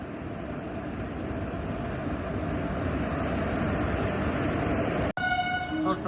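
An Indian Puri Express train rumbles steadily and loudly close by as it starts off, with a continuous broadband roar and faint horn-like tones, ending in a brief cut and higher tonal squeals.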